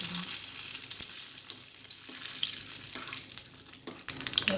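Cashews sizzle in hot ghee with mustard seeds in a pan while cooking sambar rice, a steady crackling fry with occasional stirring clicks and scrapes, no voices.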